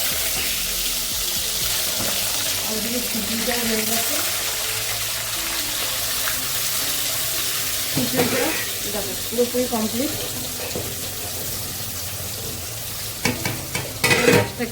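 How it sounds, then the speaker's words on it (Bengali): Potato pieces fry in hot oil, making a continuous close sizzle and bubbling, with stirring and scraping of a utensil and clattering handling noises toward the end. "তেল গরম হয়ে গেছে আর এখানে ভাজাগুলো দিয়ে দেবো"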